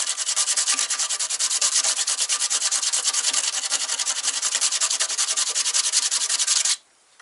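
Coarse sandpaper, around 80 grit, rubbed by hand over the metal of a VW MK2 engine bay: fast, even back-and-forth scratching strokes, loud and close, continuing steadily before stopping abruptly near the end.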